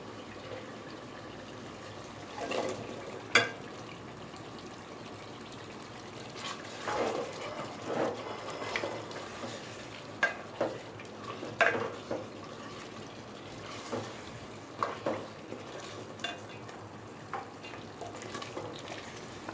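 Cut potatoes tipped into beef that has been fried dry for aloo gosht, then stirred in the pan, giving soft scraping and light sizzling with intermittent clatters, moderately quiet throughout.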